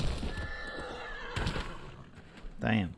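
A horse in Ghost of Tsushima lets out a loud whinny near the end, following game sounds and bursts of noise, with a voice talking over parts of it.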